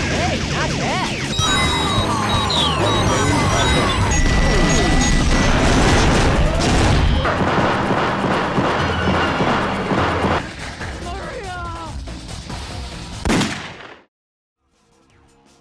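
Loud, dense gunfire rattles through a Sonic adventure-era video game amid crashes, booms and layered music and effects, continuing for several seconds before cutting off abruptly into near silence.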